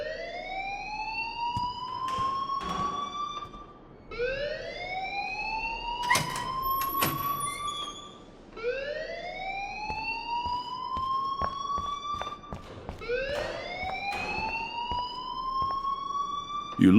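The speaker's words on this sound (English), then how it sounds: "please turn off that alarm since that's your job" A wailing alarm sounds in the video game Life is Strange, with rising siren sweeps repeating about every four seconds, loud and steady, while voices talk over it.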